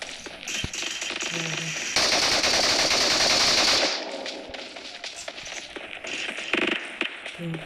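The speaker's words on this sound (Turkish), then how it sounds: "Bizim takım arkadaşı vurdu." Automatic gunfire from the mobile game PUBG Mobile rattles in a dense sustained burst of about two seconds, preceded and followed by scattered single shots and game sounds, loud and close.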